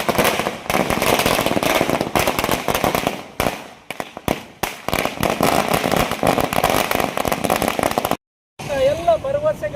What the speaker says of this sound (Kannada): ಕಾಂಗ್ರೆಸ್ ಪಕ್ಷದ ಕಾರ್ಯಕರ್ತರು ಪಟಾಕಿಯನ್ನು ಸಿಡಿಸಿ ಸಂಭ್ರಮಿಸಿದರು.